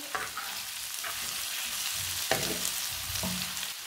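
Coriander being stirred into a radish curry (mooli salan) in a pan: a low sizzle under a few distinct spoon scrapes and knocks, close and fairly quiet, with no talk.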